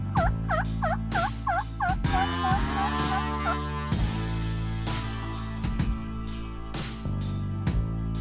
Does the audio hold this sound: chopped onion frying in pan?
no